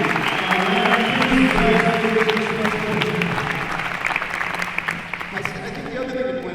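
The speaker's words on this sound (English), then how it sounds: "So I'm going to tunelessly ask for a round of applause for Jim." Audience applause at a Special Olympics Maryland dinner at Towson Center, honoring an award recipient; sustained clapping fills the hall at steady loudness for several seconds, with some voices and tonal room sound mixed underneath.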